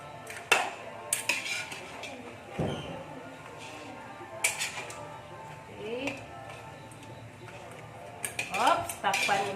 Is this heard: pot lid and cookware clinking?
yes